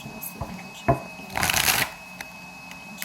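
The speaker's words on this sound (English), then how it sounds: "I am going to shuffle until the energy tells me to stop now" Babylonian Tarot cards being shuffled in a brief riffling burst, with a few soft taps before and after in a quiet room.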